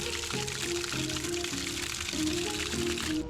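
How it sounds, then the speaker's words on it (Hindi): Natural spring water pours steadily from a lion-head spout at Kainchi Dham near Nainital, Uttarakhand, a close, continuous splashing gush. "यहाँ पे शेर के मुंह से पानी आता है। ये जो पानी है ये नेचुरल स्प्रिंग बोल सकते हैं।"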